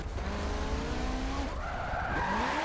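A car drifting in Forza 7, engine droning loud and close while the tires squeal in long rising and falling wails, uninterrupted and alone.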